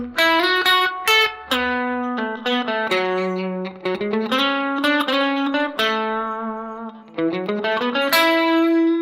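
A distorted electric guitar plays a fast alternate-picked lick, a quick run of crisp, evenly spaced notes climbing and falling with brief gaps, loud and alone with no talking.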